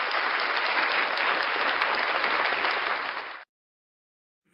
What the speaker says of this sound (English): Ladies and gentlemen, round of applause for unclean hands.